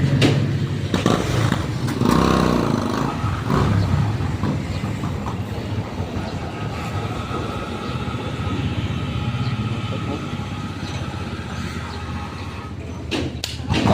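A motorcycle engine, Ricky's bike, runs steadily at a petrol station, a continuous loud rumble with a few thumps throughout.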